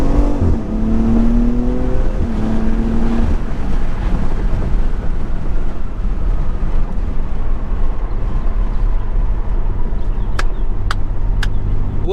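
A BMW X3 M performance SUV pulls hard in second gear, its engine note rising steadily under a constant rush of wind and road noise, with a few sharp clicks near the end.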